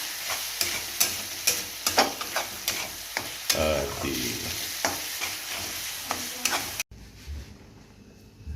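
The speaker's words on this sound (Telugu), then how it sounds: "మాడకుండా మనం మరలా ఇంకొకసారి బాగా కలుపుకుంటున్నాం" Chicken curry fries and sizzles in a pan while a spoon stirs it, giving repeated scraping knocks over a steady crackle. The sound is close and cuts off abruptly near the end.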